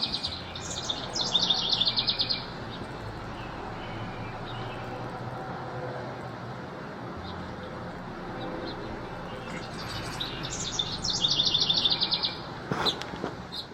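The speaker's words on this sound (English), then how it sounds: "Our backyard is full of the sounds of the house wren" A house wren sings two bubbling, rapid trilling bursts in a Minnesota backyard in June, one near the start and one near the end, over a low background hum.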